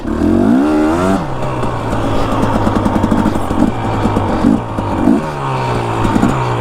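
A motorcycle revs hard at close range while its back tire spins out, rising and falling engine pitch in repeated surges, loud and alone without speech.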